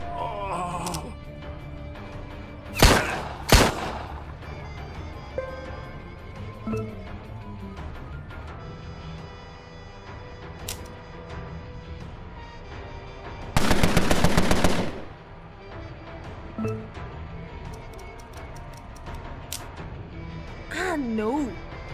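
In the video game Empire of Sin, gunfire comes as two loud bursts near the start and a longer sustained rattle of automatic fire midway, between quieter in-game sounds, with a voice talking over parts of it.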